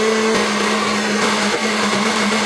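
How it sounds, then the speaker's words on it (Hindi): A mixer grinder whirs loudly and steadily blending green chutney with garlic, a constant high-pitched motor drone with a slight wavering as it blends. "अच्छे तरीके से हम इसको दबा देंगे ताकि अच्छे तरीके से हमारा ग्राइंडर जो है ना चल सके"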